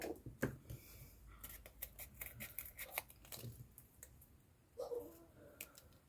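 Scissors snip through a recycled Christmas card, a quiet string of crisp clicking cuts with irregular rhythm and brief rustling of the card, close up.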